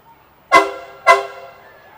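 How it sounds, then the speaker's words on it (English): Two loud, brassy air horn blasts at a town parade in Hicksville, about half a second apart, each cutting off sharply and leaving a short ringing tail, with faint background noise between. "whenever somebody sounded an air horn"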